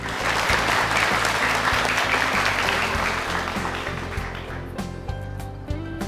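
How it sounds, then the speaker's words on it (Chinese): An audience applauds as models return to the stage at a fashion design competition, a full, dense clapping that stays loud and steady, then thins slightly toward the end while music enters underneath. "下面让我们掌声有请模特再次登台"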